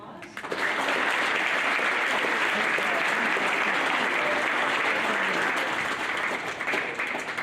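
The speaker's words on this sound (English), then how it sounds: "can we give her a round of applause?" Applause from an audience at a school academic awards ceremony, a dense, steady wash of many hands clapping that swells in quickly and holds evenly throughout.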